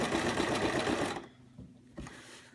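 Sewing machine stitching a sugar skull pincushion, a loud fast continuous whir that stops abruptly just past a second, followed by a brief mechanical clunk and low quiet.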